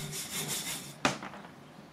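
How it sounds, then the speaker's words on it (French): Rhythmic rasping strokes of a saw through wood at the Châtillon mill, steady back-and-forth, then a sharp knock and a few softer strokes trailing off. "Pendant que la scie chante encore"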